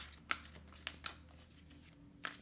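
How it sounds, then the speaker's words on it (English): Tarot card decks being shuffled by hand, giving four short crisp riffling bursts spaced irregularly over a quiet, low room hum, close and soft. "So we just need to do a little shuffle here."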